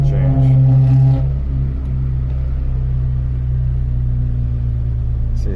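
1998 Mazda Protege 1.5L engine idling with a surging, elevated idle, a loud steady hum that drops in pitch and level after the first second, then settles into an even drone.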